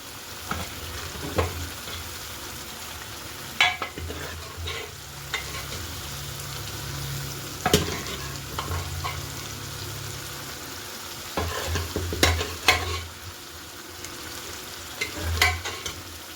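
Chicken pieces frying in a pan with a steady crackling sizzle, broken by occasional clanks and scrapes of a spoon being stirred through, close and moderately loud, with no talk.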